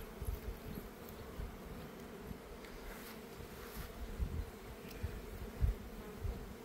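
Honey bees at a beehive hum in a steady, dense buzz, close and continuous, with swarming overlapping wings and no talking.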